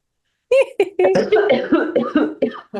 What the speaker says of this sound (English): I have a coughing fit happening.